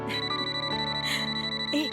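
A phone rings with an incoming video call during a wedding-time family gathering in a Hindi drama, a steady electronic ringtone melody repeating loudly over a constant background hum.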